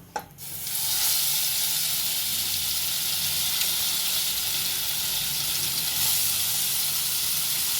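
Green-masala fish drops into a little oil and bursts into a loud hiss, then settles into a steady, close sizzle and crackle that carries on alone.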